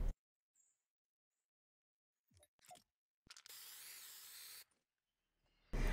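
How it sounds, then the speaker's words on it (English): Spray paint hisses over a poster in the Fortnite battle royale game, one steady burst of about a second and a half after a few faint clicks and footsteps, with near silence around it. "the poster that we need to spray over. So go ahead and spray it."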